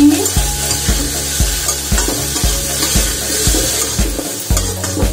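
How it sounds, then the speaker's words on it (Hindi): Parwal (pointed gourd) and onion being stirred and fried in a pan, with steady sizzling under repeated scraping strokes of a spoon at a regular rhythm, close and loud, no talking. "अब हम वापस से सब्जी को मिक्स करके भून लेंगे।"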